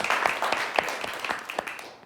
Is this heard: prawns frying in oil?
no